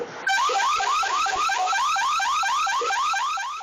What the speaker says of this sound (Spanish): Ya se sintieron la alarma y se arrancaron.